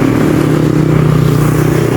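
Road traffic on a highway running right beside a house, a steady near rumble of engines, with a motorcycle-like drone and faint clatter holding at an even level throughout.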